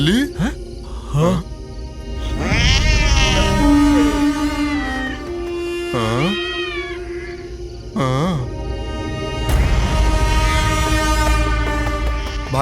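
A cat meows a few times in a horror film scene, with wavering, swooping cries mixed among people talking and loud, sustained horn-like tones.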